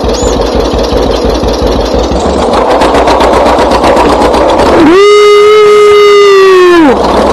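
A voice imitates a John Deere Model A tractor engine, sputtering in a steady rhythmic putt-putt close to the microphone, then rising into a sustained droning hum for about two seconds before cutting off.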